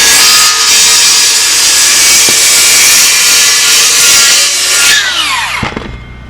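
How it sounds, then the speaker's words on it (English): A saw cuts into wood during home construction work, a loud, steady rasping cut lasting about five seconds before the blade's whine falls in pitch and fades as it spins down, with no talking. "Take the saw. leave about 1/8 of an inch in there."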